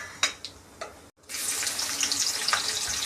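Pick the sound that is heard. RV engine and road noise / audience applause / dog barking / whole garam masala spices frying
whole garam masala spices frying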